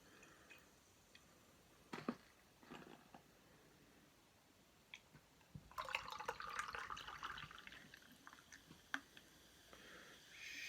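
A few soft clicks and taps, then chocolate stout pours into a glass with a bubbling, fizzing rush that carries on for several seconds. It is quiet and close.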